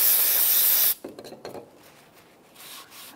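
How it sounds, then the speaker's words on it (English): A loud, sharp hiss of aerosol solvent spray bursts for about a second, then stops, followed by quiet rubbing and scraping, while cleaning a valve cover gasket surface on a 1992-1996 Toyota Camry. "I'm gonna use some spray solvent."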